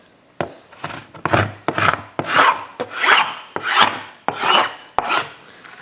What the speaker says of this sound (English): it's this scraper has a carbide blade on it